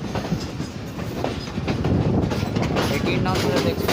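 Millat Express running on rails between Hyderabad and Karachi, a continuous loud rumble and rattle of wheels and carriages with faint clickety-clack, heard from close on board and building slightly over time.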